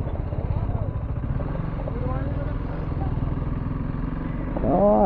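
Motorcycle ridden slowly along a road on a countryside ride, its steady low engine drone running throughout under ongoing talk, with a brief louder swell near the end.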